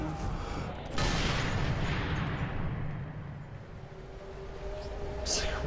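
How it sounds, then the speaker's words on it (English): Gunfire and explosions in the shooter game Sniper Elite 3, heard as a dense, sustained roar of blasts and shots with a big boom about a second in and another burst near the end. "Just like random, unexplained explosion happening, and just fire."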